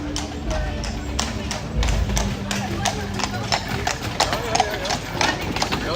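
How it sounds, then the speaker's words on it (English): Horse and carriage passing over cobblestones in medieval Bruges, a steady clip-clop of hooves close by, with people talking and street bustle around it. "you hear a horse just coming, just passing us"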